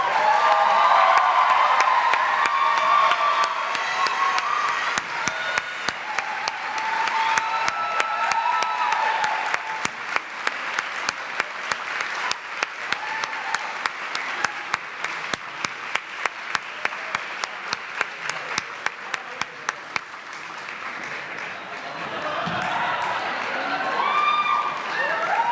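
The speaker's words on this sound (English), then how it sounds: "A round of applause, please." A large audience at an awards convocation breaks into sustained applause, dense crowd clapping that carries on for about twenty-five seconds before trailing off.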